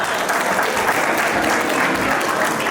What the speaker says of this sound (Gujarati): એક વાર આનંદને અખંડિત તાળીઓના નાદથી આપણે અભિવ્યક્ત કરીએ